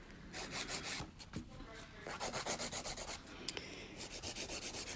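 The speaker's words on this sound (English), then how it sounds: "you're using your sanding band" A sanding band on an electric file grinds an acrylic nail in close, rhythmic strokes, a buzzy rubbing rasp that pulses with each back-and-forth pass and briefly pauses before resuming.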